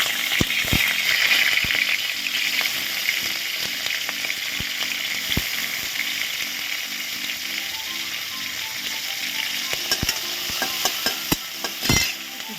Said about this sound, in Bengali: নুন দেবো, ভালো করে ভাজবো।